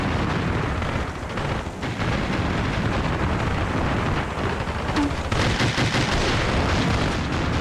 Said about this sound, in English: that's got to be scary having that autocannon firing over your head